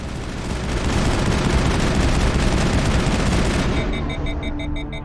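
Sustained rapid gunfire from the video game Mass Effect 2, a loud continuous burst for several seconds that cuts off as the weapon overheats, leaving a faint pulsing electronic tone.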